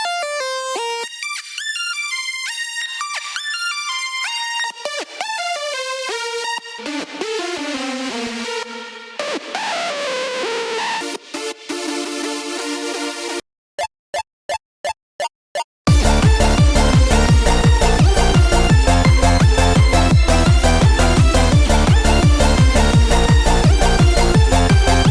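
Layered synth saw-stack chords from a happy hardcore demo, first as separate gliding and broken-chord layers, then a few short stabs and gaps, before a loud full rhythmic chord pattern kicks in and fills the rest.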